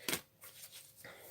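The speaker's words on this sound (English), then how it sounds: "I'm just going to shuffle these cards now" A deck of cards shuffled during a tarot-style reading, with soft papery riffling bursts near the start and end and quieter rustling in between, close and low in level with no talk.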